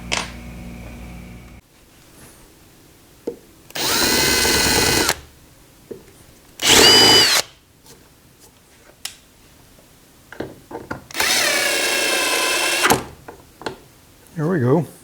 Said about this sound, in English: I'm going to have to countersink that wood a little bit.